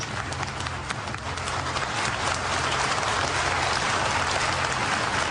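Sustained applause from a room of senior military officers, judges and prosecutors after a military briefing, dense and steady clapping filling the whole stretch with a slight swell midway.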